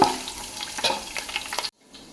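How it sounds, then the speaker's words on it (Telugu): Dried red chillies and tempering spices frying in hot oil for a chicken curry, a busy crackling sizzle with small pops that stops abruptly near the end, close and alone. "చూస్తారు కదండి తాలింపులన్నీ ఇలా వేగాలి"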